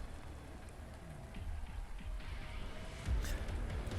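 Rain falls outside a store in a story narration, heard as a steady patter of drops on surfaces that thickens partway through, with a louder splash or thud near the end and no voices.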